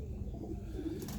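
Young loft pigeons let out soft, low cooing close by, a quiet murmuring hum that carries on throughout, with a faint airy rustle near the end.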